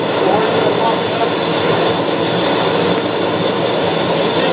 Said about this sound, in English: He's running up, he's testing out his flight controls right now.